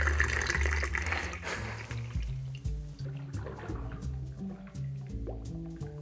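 Mezcal poured from a bottle through a slow, pour-limiting cap insert, a soft dribbling trickle with drips and small splashes, gently rhythmic and close.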